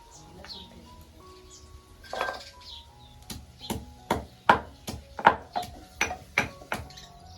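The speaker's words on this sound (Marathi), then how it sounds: "इकडे लसूण ठेचून घेते मी" Garlic being crushed by hand, about a dozen sharp, evenly spaced pounding knocks close by after a quieter stretch of faint clatter, with a soft tonal background underneath.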